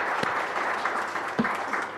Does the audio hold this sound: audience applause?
yes